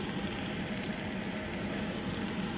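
Cumin, mustard seeds, garlic and dried chillies sizzle in hot oil for a Telugu greens-and-dal tempering, a steady, dense crackling hiss that runs evenly throughout without any talk.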